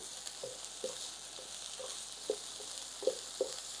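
Thinly sliced onion fries gently in a pan over a low flame, giving a soft, steady sizzle with faint stirring taps scattered through it.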